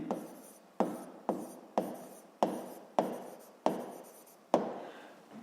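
A pen writes by hand in a run of about eight separate strokes spaced at even intervals. Each one opens with a sharp scratch and fades out, heard close and on its own with no voices.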